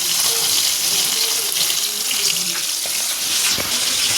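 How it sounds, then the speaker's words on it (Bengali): Fish fries in a pan in a home kitchen, a loud, steady broadband sizzle and crackle with small pops, continuous throughout and close by. "আর এদিকে মাছ ভাজছি"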